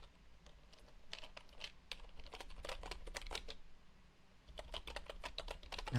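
Keys clatter on a heavy wooden keyboard in quick bursts of typing, crisp and close, with a short pause midway before the tapping resumes.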